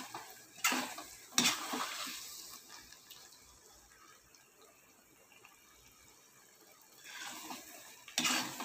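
Chettinad mochai (field bean) masala simmers quietly in a pan with oil separating and spitting, a faint low sizzle broken by a few louder stirring scrapes near the start and end.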